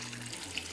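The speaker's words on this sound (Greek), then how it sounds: "θα προσθέσουμε ακόμα λίγο βραστό νερό" Boiled water pours into a cooking pot holding meat and greens, a steady close splashing stream lasting under a second.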